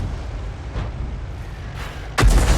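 An artillery shot strikes and blows up a tank in a World of Tanks-style battle: a muffled, rumbling battlefield bed with a sudden loud, deep boom near the end that rings on.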